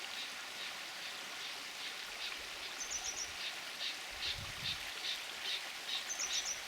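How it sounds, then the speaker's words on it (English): Partridge calling in an early-spring Dales woodland, a run of short repeated chirping notes at moderate distance over a steady hiss of rain or running water, with a couple of faint low thumps. "This partridge is getting all excited."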